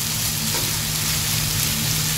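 Mixed vegetables sizzle loudly in a pan after a few spoonfuls of water are added, a steady crackling fry with no pauses.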